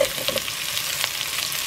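Mushrooms frying in a pan for lomi noodles, a brief, close, steady sizzle and hiss with a few small pops and stirring sounds.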